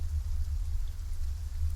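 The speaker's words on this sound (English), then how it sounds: "The rain pittered and pounded on the hood of her jacket, each drop making its own sound." Steady rain patters on a jacket hood at night outdoors beside a tent, a dense, even wash of drops with a low rumbling undertone, continuous and fairly close, no voices.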